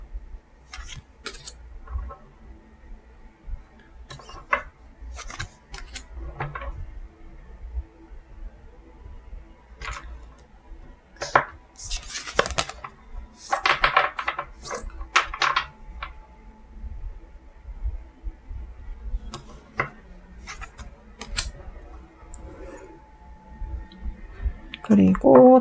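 Tarot cards are drawn and laid out on a table: scattered soft clicks, shuffling and slapping card sounds, some in quick clusters, under someone speaking Korean.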